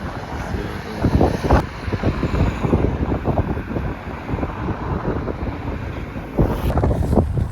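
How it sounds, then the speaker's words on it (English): Strong wind buffets the microphone near seaside cliffs at Noli, a continuous loud roaring rush with gusty surges throughout and no voices. "Wind, strong wind, man, strong wind."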